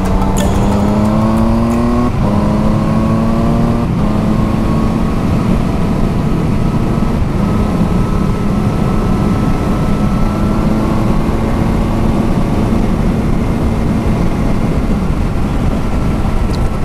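Car cruising along a country road near the Sorpesee, a loud steady engine drone with rushing road and wind noise and a few gear-change pitch shifts early on.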